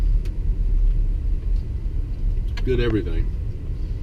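A low, steady rumble fills a car's interior as it drives along, with a person speaking briefly partway through and a few faint clicks.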